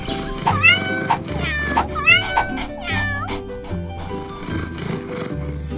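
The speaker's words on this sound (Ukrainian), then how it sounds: "Привіт, котик." Several cat meows, clear and fairly close, repeat in a loose rhythm above soft background music, with no talking.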